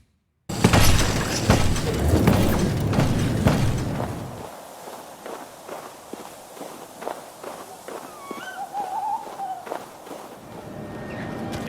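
Rapid footsteps thud and scuff across a hard surface, loud at first and then lighter and sparser, with a brief shatter-like crunch near the start.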